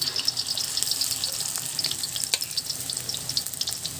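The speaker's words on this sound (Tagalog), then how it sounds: "Prito na natin." Small fish patties frying in hot oil, a close, crackling sizzle with bright popping spatters throughout, no voices.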